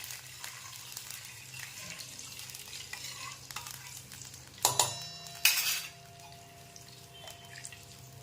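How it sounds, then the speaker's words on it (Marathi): A spoon stirs half a glass of water into fried masala in a pan for a Maharashtrian patvadi rassa, with soft scraping and light sizzling, then a few sharper clinks of utensils against the pot near the end. "अर्धा ग्लास पाणी टाकायचं आहे आपल्याला यामध्ये आणि मिक्स करून घ्यायचं आहे"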